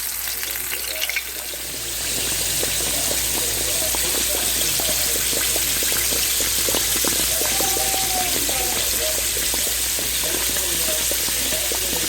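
Pork chops sizzle in a very hot cast iron skillet with the heat just switched off, a steady broad hiss of frying fat holding level throughout, with faint voices in the background.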